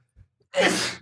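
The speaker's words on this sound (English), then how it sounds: "Why am I so sneezy?" One sharp human sneeze, preceded by a brief quick inhale, loud and close in an otherwise quiet room.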